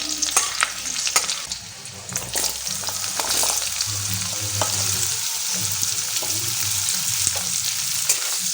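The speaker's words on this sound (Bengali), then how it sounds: "ফোড়ন থেকে যখন একটা সুন্দর স্মেল বেরোবে তখন আমি পটলগুলো দিয়ে দেবো" Pointed gourd sizzling and frying in oil in a pan with a cumin, potato and green chili tempering, making a steady close crackle with occasional stirring scrapes throughout.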